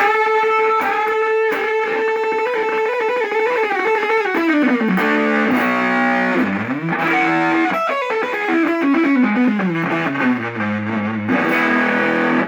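Heavily distorted electric guitar through a Tone Bender MKII-style fuzz circuit with gain at maximum, thick saturated fuzz in sustained notes and sliding runs, loud and continuous with no voices.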